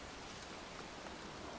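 Heavy rain falls outdoors in a cemetery on a cold night in the game Heavy Rain, a steady, even hiss of dense drops that continues without a break.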